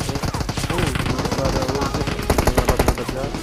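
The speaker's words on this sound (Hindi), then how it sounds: "उन साइड में बहुत तेज से गोलियां चला रहे थे बंदे" Loud, rapid bursts of automatic gunfire in PUBG Mobile crackle almost without pause, close and harsh, with a few distinct volleys toward the end.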